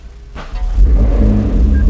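A McLaren MP4-12C Spider supercar engine cranks and catches, settling into a deep, loud rumbling idle close by, with no talking.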